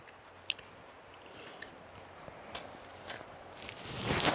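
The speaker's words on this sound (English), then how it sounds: "you're getting the munching sound" Someone munching on British Wagyu burgers from Morrisons during an overnight camp-out in the woods, with soft, close chewing and squishy bites over faint outdoor ambience that swells toward the end.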